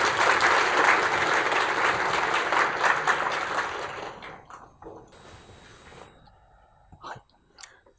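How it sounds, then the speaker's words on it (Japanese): Audience at the ZBrushMerge 2019 artist conference in Japan applauding to welcome a FromSoftware presenter, loud dense clapping that fades out over a few seconds, leaving scattered last claps and quiet room noise. "拍手でお迎えください。"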